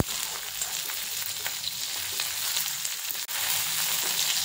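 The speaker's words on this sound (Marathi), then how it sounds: "आणि या मिरच्या आणि लसूण व्यवस्थित तेलामध्ये भाजून घ्यायचा" Green chillies and garlic fry in oil for Maharashtrian turi chi amti, a steady close sizzle with faint stirring, briefly cutting out for an instant before resuming.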